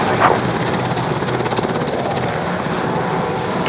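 A steady, loud rotor-like drone from an aircraft departing a runway during an airshow, broadband and continuous throughout with faint rhythmic beating, no voices.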